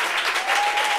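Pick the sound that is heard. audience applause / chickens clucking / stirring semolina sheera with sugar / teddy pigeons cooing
audience applause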